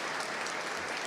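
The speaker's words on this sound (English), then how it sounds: "We can give her some applause." Applause from a crowd at a State House rally for a nonprofit caring force, a brief, dense, even wash of clapping with no break.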